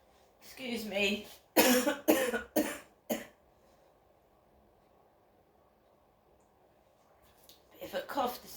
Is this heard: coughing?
yes